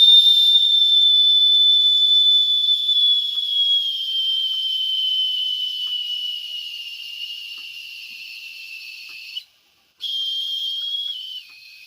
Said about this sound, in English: Then I'll just open up the whistle like that.